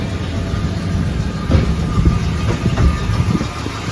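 A Dodge Ram 1500 Sport V8 idles with a deep, steady rumble, close by and loud, with a few slightly stronger surges partway through.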